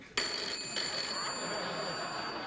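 A telephone rings in a late-night TV talk show studio: a loud, sustained electronic ring starts abruptly, then a second ring follows soon after and holds steady with no talking over it.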